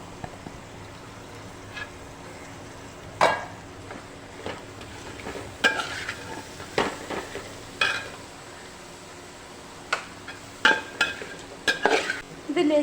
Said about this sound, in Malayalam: ഇതിലേക്ക് നമുക്ക് അരിഞ്ഞു വച്ചിരിക്കുന്ന 3 സവാള ചേർത്ത് വഴറ്റി കൊടുക്കാം